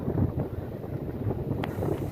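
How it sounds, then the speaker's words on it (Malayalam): Strong wind buffets the microphone beside a lake near paddy fields, a steady low rumbling roar that holds loud through the whole short stretch, with one brief sharper gust or knock near the end. "നല്ല കാറ്റ്, അതുകൊണ്ട് നല്ല ശക്തിയായിട്ട് ഓളമുണ്ട്"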